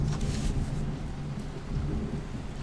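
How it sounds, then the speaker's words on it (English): Heavy rain hisses steadily outside while low thunder rumbles underneath, a dense, continuous wash of storm noise with no voices. "Thunder and lightning as well."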